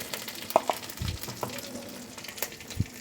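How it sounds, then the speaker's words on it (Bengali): Dried red chillies and panch phoron frying in oil, a faint crackling sizzle with a few sharp pops and clinks of a spoon, quiet and close with no talking. "তো এগুলি আমি একটু হালকা ভেজে নিচ্ছি"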